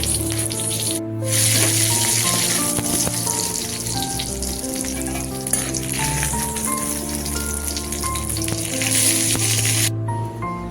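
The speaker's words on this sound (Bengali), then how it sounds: "এবারে কয়েকটা কাঁচা লঙ্কা আর শুকনো লঙ্কা ভেজে নিচ্ছি" Green and dried chillies fry in hot oil with a steady, loud sizzle that runs throughout, crackling and spitting densely with brief dips, no voices present.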